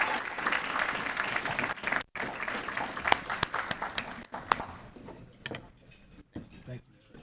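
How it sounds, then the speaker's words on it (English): Convention audience at the CRA 2022 Annual Convention applauding a youth leader, a broad wash of clapping that runs steadily for several seconds, dips briefly, then thins out toward the end with scattered claps. "Can we give him a warm round of applause?"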